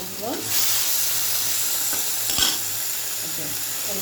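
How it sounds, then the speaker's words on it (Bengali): Flour is stirred and lightly fried in oil in a pan, giving a close, continuous sizzle and hiss broken by scraping strokes of the spatula, with no talk over it. "আটাটা কিন্তু বন্ধুরা আমি তেমন একটা ভাজা করবো না,"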